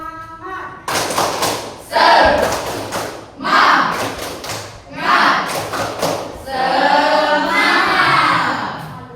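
Indonesian classroom students doing the tepuk semangat cheer, a patterned sequence of group claps and thumps in rhythmic bursts, mixed with chanting voices of the class.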